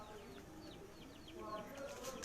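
Pigeons flying in to be fed on a rooftop in Sheikhupura, with faint, scattered bird calls and soft fluttering over a low, steady background.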